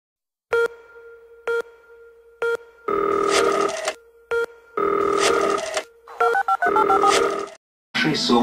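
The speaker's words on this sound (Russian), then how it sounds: "Предположим, что вы смотрите передачу, и вдруг звонит телефон." A telephone rings loudly and up close in repeated electronic bursts separated by short gaps, mixed with brief tonal beeps.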